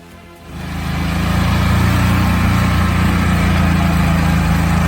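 Heavy machinery engine cranks over and catches, swelling within a second into a loud, steady low roar that holds close and constant to the end.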